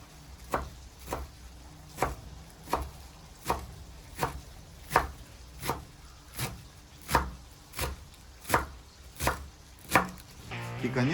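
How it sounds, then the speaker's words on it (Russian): A knife chops fresh parsley and dill on a board outdoors, in a steady rhythm of about a dozen crisp, evenly spaced strokes, close and clear with no talking. "Сразу же нарезаю зелень."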